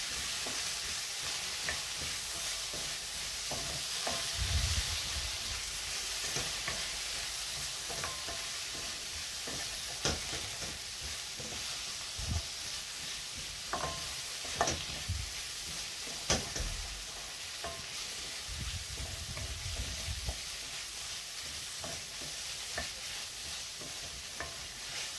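Okra is sautéed and stirred in a pan with softened tomato and onion for a tamarind curry, giving a soft, steady sizzle broken by occasional scraping stirs, fairly quiet and with no talking.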